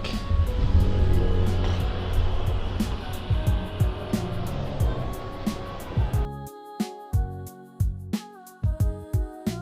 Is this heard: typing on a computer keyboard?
no